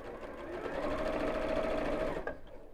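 Sewing machine stitching a simple messenger bag with a quarter-inch seam, a steady continuous motor whir that holds for about two seconds, then stops abruptly.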